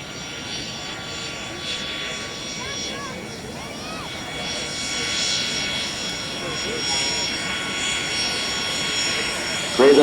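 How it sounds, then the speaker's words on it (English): Aero L-39 jet trainer decelerating on an airshow runway, its engine a steady, fairly distant whine and roar with a whistling tone, carrying on evenly under outdoor ambience. "So Alan is going to be slowing the aircraft down."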